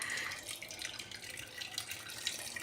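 Cooking water draining from boiled greens, a continuous close splashing, trickling pour with no talking.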